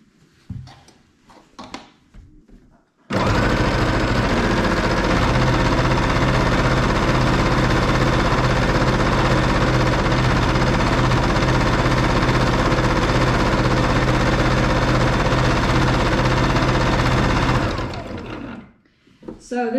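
A Baby Lock Jazz II sewing machine runs steadily during free-motion quilting, its close, loud motor hum and rapid needle chatter holding continuous for about fifteen seconds before stopping, with faint handling noises before and after.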